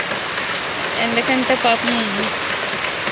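Heavy rain pours steadily in Andhra as a dense, continuous hiss drumming on surfaces, while a voice speaks briefly over it.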